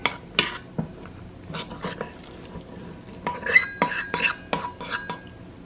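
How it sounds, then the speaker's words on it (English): A spoon knocks and scrapes against a mixer bowl while stirring gluten-free pizza dough, giving a run of sharp, close clinks in uneven bursts with quiet gaps between them. "I'm just using a spoon to kind of mix it"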